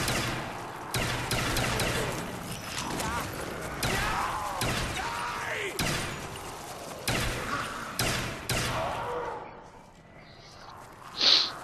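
Rapid bursts of powerful gunfire in a Black Ops zombies map, repeated shots and impacts running steadily through most of the stretch before easing off, with a sharp effect near the end.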